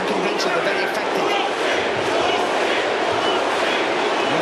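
A packed boxing arena crowd roars during the Usyk vs Dubois heavyweight fight, a dense, loud, sustained wall of cheering with no breaks, a commentator's voice faintly mixed in.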